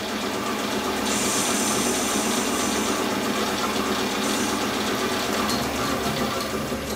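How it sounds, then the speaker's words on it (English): A toolpost grinder on a lathe cuts internal and external chamfers on a bushing, a steady loud machine drone with a brighter grinding whine rising partway through. "putting on an internal chamfer. And also on the outside."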